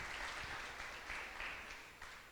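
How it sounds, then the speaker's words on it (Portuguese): A church congregation applauds together, a steady wash of clapping from many hands that swells and eases slightly throughout. "Irmãos, aplauda ao Senhor pela vida do nosso irmão."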